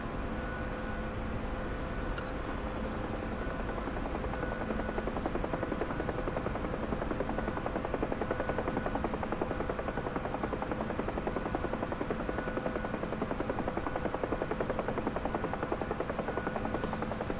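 Steady, loud rotor and turbine drone of a UH-1 Huey helicopter in DCS, approaching and settling onto a helipad in light wind, continuous throughout with a brief electronic beep early on.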